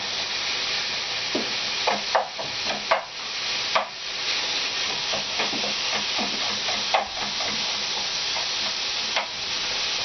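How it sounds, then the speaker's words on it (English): About 300–400 grams of minced meat fries over raised heat in a pan, with a steady close sizzle and occasional sharp crackles and stirring scrapes throughout. "you put the fire a little higher, and you let it get fried"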